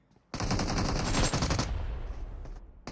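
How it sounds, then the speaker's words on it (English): Rapid automatic gunfire from a PUBG Mobile esports match rattles out in a dense, loud burst lasting over a second, followed by a tailing echo and a final sharp shot. "Least does he know that Jiggle is already peppering bullets in his direction"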